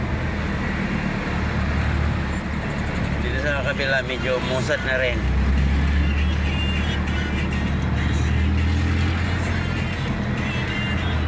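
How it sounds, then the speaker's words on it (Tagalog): Heavy road traffic with big trucks near the San Fernando overpass, a loud continuous engine rumble and passing vehicles, with someone talking over it near the middle. "Puro malaking truck. Ito yung paakit ng overpass mga idol."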